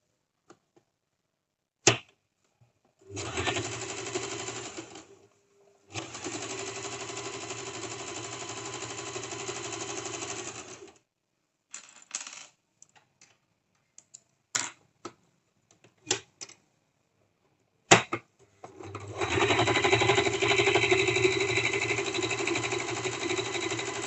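Sewing machine stitching a cigar pant: several continuous mechanical whirring runs of a few seconds each, broken by pauses and sharp clicks, with no talking.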